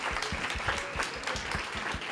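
Audience applause for speaker Colleen at a Boston EdTalks convening: dense, steady clapping from a crowd, loud and sustained throughout with no pauses.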